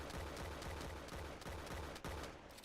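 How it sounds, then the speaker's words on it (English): Automatic gunfire rattles in rapid bursts as a colonist fires on a conversion chamber in RimWorld, a dense loud stream of shots with brief pauses and no talking. "So I sent Kato out to shoot it"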